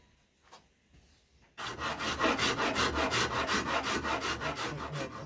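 A Shinto rasp filing wood in a woodworking shop, starting after a quiet moment and then rasping in steady, loud, rhythmic back-and-forth strokes, close up, with no talking.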